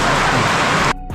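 Dense, loud rain roars as a steady wash of noise, then cuts off abruptly near the end, leaving a quieter gap.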